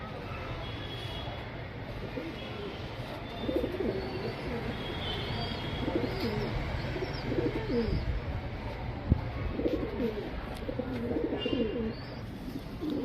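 A pair of pigeons coo repeatedly at close range, soft rolling calls returning in bursts over a low background hum, with faint chirps higher up and no talking.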